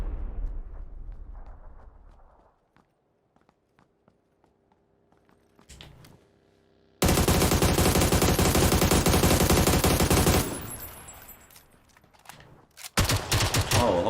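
Bursts of automatic gunfire in PUBG, a battle royale shooter, rattle loud and dense for several seconds after a quiet stretch with scattered faint shots and footsteps, then return in another close burst.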